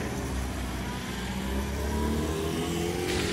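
Steady taxi cab engine hum with road rumble, a continuous moderate drone as if heard from inside the moving cab.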